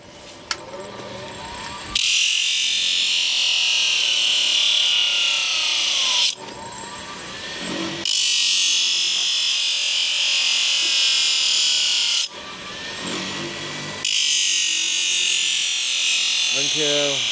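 A loud grinder works a welded heart bar horseshoe in three long, steady bursts with brief pauses between them, the high harsh whine dominating throughout.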